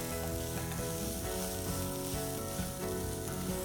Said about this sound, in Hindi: we are going to take some freshly chopped onions. We are going to cook this onion till it's translucent